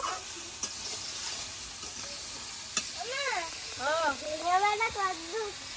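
Ridge gourd and potatoes sizzle steadily while being stirred in a pan, with occasional clinks, as a voice speaks over the latter half.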